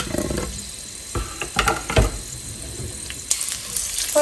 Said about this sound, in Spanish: Vamos a utilizar una cacerola a la cual le vamos a agregar un chorrito de aceite. Y mira, le voy a agregar media cebolla en trozos.